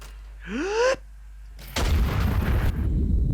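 A dieselpunk landship's heavy artillery turret fires in Iron Nest, with a short rising whine first, then a pause and a loud, sudden blast followed by a broad rumbling roar that lingers for over a second.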